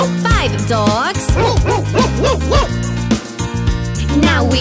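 Cartoonish dog barks and yips in a children's counting song, repeated in a bouncy rhythm over a bright musical backing with sliding sung or voiced tones, loud and close.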